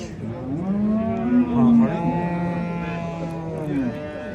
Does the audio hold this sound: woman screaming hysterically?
no